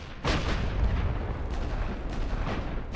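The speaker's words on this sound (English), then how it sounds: "Start the barrage." A heavy artillery barrage rumbles in The Great War: Western Front, a loud, continuous roar of overlapping booms that erupts after a brief quiet start and keeps pounding steadily, with no voices over it.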